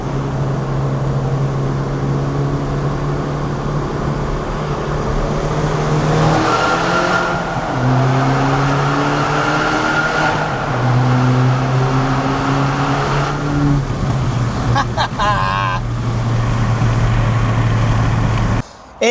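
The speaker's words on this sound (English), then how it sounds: "See if we can get a bit of exhaust noise through the tunnel" A Mini Cooper S exhaust drones loudly and steadily through a tunnel, rising and falling through gear changes with a boomy, enclosed echo, and no voices.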